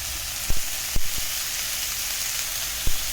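Onions and tomatoes sautéing in a pan for chicken curry, a constant close hiss of frying broken by a few sharp spatula knocks against the pan.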